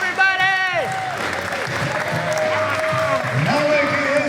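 An arena crowd at a wrestling event cheers, yells and applauds loudly and continuously, a dense roar with whistles and shouting voices rising over it, and a voice howling near the start.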